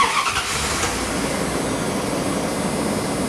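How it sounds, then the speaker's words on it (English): A truck engine starting and running loudly and steadily with a broad, rough roar, close by and continuous throughout. "We start the truck."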